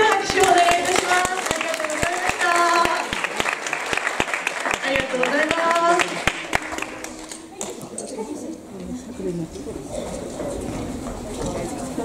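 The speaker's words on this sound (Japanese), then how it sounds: "もう一度大きな拍手をお願いいたします。" Audience applause after a yosakoi dance performance at a Christmas event in Hasuda, a dense burst of many hands clapping that rises strongly, then fades as a voice speaks over it.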